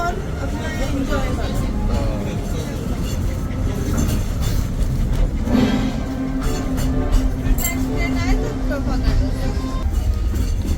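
Disneyland Paris railroad ride: a steady train rumble with clattering and a brief whistle-like tone, heard under crowd chatter and a park announcement voice.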